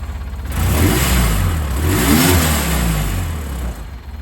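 A farm engine fitted with a custom hand throttle starts and then holds a loud, steady mid-pitched idle close by for a few seconds before dropping off, with no talking.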